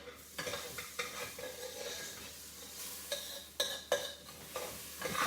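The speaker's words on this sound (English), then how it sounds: "this is the time we need to saute" Food sautés in a pan for an Ayurvedic detox dish, a steady sizzle under repeated scraping and stirring strokes of a utensil, close and fairly loud with no talk.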